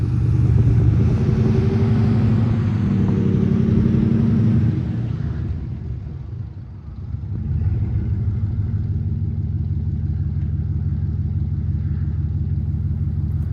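A third-generation Dodge engine runs while being driven, a loud low rumbling drone that swells, drops away briefly mid-way, then settles into a steady lower idle-like rumble.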